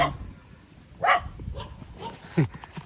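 A dog barks twice, about a second apart, sharp and fairly close, over a quiet outdoor background.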